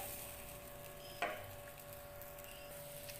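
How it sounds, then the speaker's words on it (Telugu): A dosa fries on a pan, giving a faint, steady sizzle with a single soft scrape or tap near the middle and no talking. "దోరగా దోశ కాలుతుంది"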